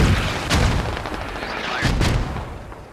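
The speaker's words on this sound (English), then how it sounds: "Wolfgang throws an artillery strike. Or a mortar attack here." Artillery or mortar strikes landing in the military shooter SquadOps, heavy booming impacts with rumbling tails, two distinct blasts about a second and a half apart over a continuous low battlefield rumble.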